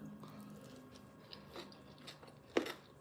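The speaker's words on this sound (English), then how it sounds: "You hear that crunch? Nice. That's the bell peppers and the carrots." Crunchy bite into a mock tuna salad with chopped bell peppers and carrots, one sharp loud crunch near the end after quieter soft chewing, no talking.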